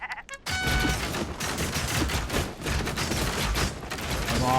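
Sheep bleats mixed with bursts of rapid gunfire-like effects in the video game Commander Quest, a dense, loud clatter of game sounds after a brief quiet start.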